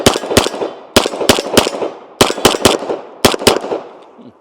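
A Kimber 2K11 pistol fires 147 grain rounds: about ten sharp, loud shots in close groups of two to three, each with a brief ringing decay, and no talking.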